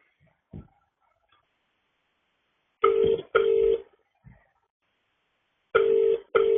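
Telephone tones sound in a quiet room: two pairs of loud, steady electronic beeps, each about half a second long, with a few soft clicks and knocks between them and no talk.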